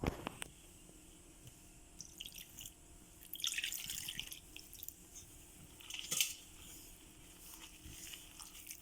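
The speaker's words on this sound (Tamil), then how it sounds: "நம்ம இது எல்லாத்தையும் தண்ணி ஊற்றி, ரொம்ப தண்ணி ஊற்றிடக்கூடாது, தண்ணி ஊற்றி பிசைஞ்சு வச்சுக்கலாம் ரொட்டி தட்டுற அளவுக்கு" Water is poured onto ragi flour and the dough is kneaded by hand, with soft wet squishes, drips and sticky slaps coming in close, irregular bursts.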